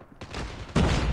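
An LK24 assault rifle fires in Call of Duty Mobile mobile gameplay: a dense, loud automatic burst that kicks in after a brief quiet moment and grows heavier for its final half second, with no voices.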